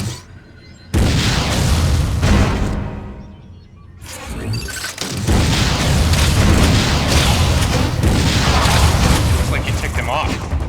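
Missile fire and explosions in Metroid Other M, loud booming blasts and bursts with a brief lull near four seconds before another heavy impact, a busy, dense game soundscape throughout.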